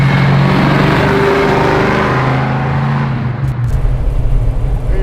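A Cuda with a Keith Black Hemi engine pulls away on a mild ride, its loud, deep engine droning and climbing as it accelerates, heard from inside the car, then easing off near the end.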